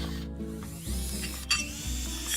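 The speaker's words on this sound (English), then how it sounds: "To mount this octet of legs, I need to drill out some acetabula." A small power drill bores holes into a figure part, running steadily with a whine that shifts in pitch as the bit bites in.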